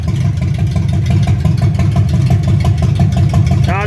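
A forgotten 1965 Ford Mustang fastback, running for the first time in 44 years, idles with a steady, loud, rumbling engine throughout, while a faint rising whine appears near the end.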